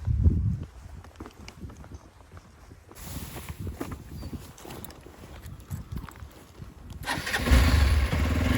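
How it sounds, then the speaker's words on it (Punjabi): A motorcycle engine that had been making a rattling noise runs unevenly, rising and falling with revving, plus some rattling and a louder burst near the end. "ਹੁਣ ਆਵਾਜ਼ ਸਹੀ ਹੋਈ ਹੈ ਮੋਟਰਸਾਈਕਲ ਦੀ"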